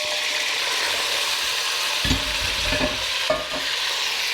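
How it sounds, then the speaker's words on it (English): Pork pieces and their juices tip back into a hot pot for chile colorado, setting off a steady close sizzle with a couple of soft thuds and scrapes from the pot. "Now all the pork goes back in the pot, plus any juices."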